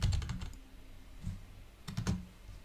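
Keys clack on a computer keyboard as text is typed into an HMI screen design, two short close bursts of rapid taps separated by a quiet pause, with no talk.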